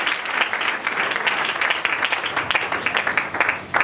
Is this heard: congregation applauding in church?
yes